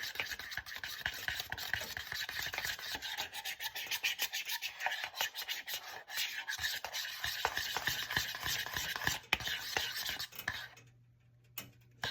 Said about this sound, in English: you always want to make sure that you're scraping the sides so that you can get all the powder off